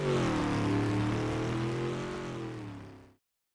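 A steady video game vehicle engine drone with harmonic hum, holding for a few seconds before fading too quickly with distance and cutting off abruptly to silence in Unreal Engine 5.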